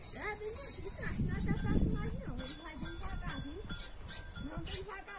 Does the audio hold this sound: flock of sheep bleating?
yes